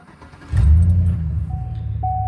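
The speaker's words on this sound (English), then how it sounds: "my truck has a Flowmaster Series 40 on it. So this thing gets pretty loud and rowdy." A 2005 GMC Sierra pickup with a Flowmaster Series 40 exhaust fires up into a sudden loud, deep rev about half a second in. A throaty rumble holds after it, and a faint electronic tone chirps near the end.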